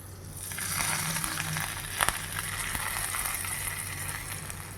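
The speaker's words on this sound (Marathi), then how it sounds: "फोडणी आपण यावरती ओतून घेऊया." A steady, close sizzle and crackle of hot tempering oil with asafoetida poured over chighal greens, with a brief louder burst around the middle, no voices.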